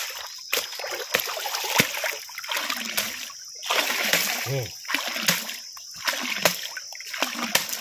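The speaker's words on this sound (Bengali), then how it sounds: "এবার ঝুড়িতে ফেলে এই যে শামুকের গায়ে লালাগুলো সব ভালোভাবে তুলে দেবো, ভালোভাবে ডলতে হবে অনেকক্ষণ ধরে" Snails are scrubbed and rinsed with water in a basket, giving repeated close splashes and sloshing strokes in a steady rhythm with brief pauses between them.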